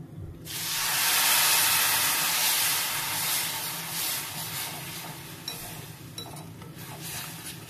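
Water poured into a hot pan of sautéed ingredients for a panchamrut offering bursts into a sharp hiss of steam, then settles into a softer bubbling sizzle with a few faint utensil clinks and no speech.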